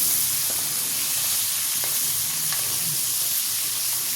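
Crab pieces fry in a pan with a steady, close sizzle and hiss that runs unbroken throughout, with faint stirring clicks and no voices.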